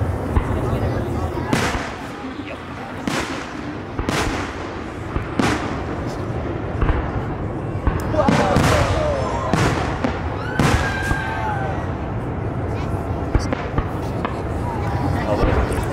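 Fireworks display at Lake Siskiyou in 2024 sends out a regular series of sharp booming bursts, some with crackling and whistling, while onlookers talk and react in the background.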